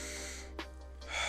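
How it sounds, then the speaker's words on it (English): One person takes a single sharp breath in and then starts to exhale, close and quiet against a steady low hum. "breathe in, breathe out."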